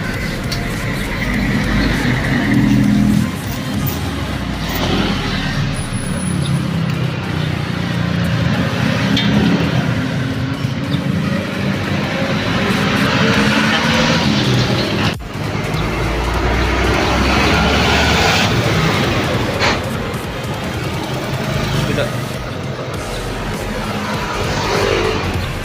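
A motorcycle engine runs steadily throughout at close range, a constant broadband roar with little change in pitch and one brief dip midway.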